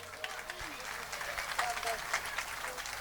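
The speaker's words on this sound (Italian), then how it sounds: "pregandovi di continuare questo applauso per la nostra orchestra" An audience keeps applauding an orchestra in Casoria with steady, moderately soft clapping, and a few faint voices sound beneath the applause.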